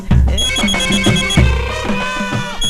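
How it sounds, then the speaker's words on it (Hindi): A mobile phone rings loudly with a bright, repeating electronic ringtone melody, near and continuous, for a call from the chief minister in an Indian film scene. "सीएम साहब का फोन, सच में देखिए ना।"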